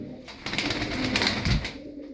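Domestic game pigeons coo in a low, rolling murmur at moderate distance, faint and without talk.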